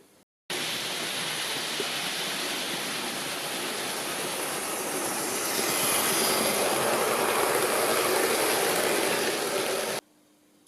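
A Hornby model railway train runs along its track with a close, continuous rolling rumble and thin wheel squeal, starting abruptly and growing slightly louder before cutting off near the end.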